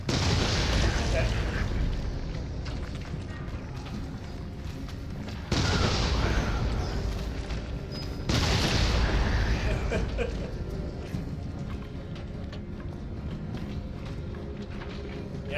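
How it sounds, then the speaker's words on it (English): Remote bombs going off in Resident Evil 7 on PSVR, heard as loud booming blasts that swell at intervals over a continuous rumble of game combat noise. "And use a remote bomb here."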